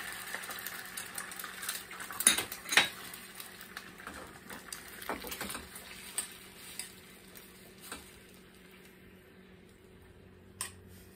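A single limed egg being scrambled in a hot pan, a low sizzle under scattered clicks and taps of a utensil against the pan, fairly quiet and close, no talking.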